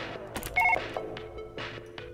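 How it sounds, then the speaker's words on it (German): Telephone keypad tones beep briefly in the video game Surgeon Simulator, a short dual-tone burst amid clattering in-game bumps and knocks, moderately close and with no speech over it. "Hör auf zu wählen!"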